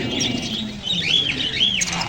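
Several birds, including lutino cockatiels, chirp and whistle in a busy bird market in Khulna, Bangladesh, with rising cockatiel calls repeating over a steady murmur of background noise.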